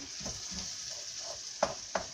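Spinach filling for börek sizzles and sautés in a pan with a steady hiss, broken by stirring scrapes and two sharp clinks of a utensil.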